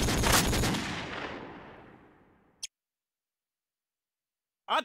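A single loud gunshot in an online shooter match booms out and rolls away in a long decaying tail over a couple of seconds, followed after silence by two short, sharp clicks.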